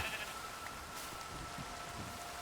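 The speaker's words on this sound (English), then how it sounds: "Sheep are massive because we get wool and food for them." Sheep bleats from the RLCraft Minecraft modpack, short game bleats over a dense, rain-like wash of background noise, with no one talking.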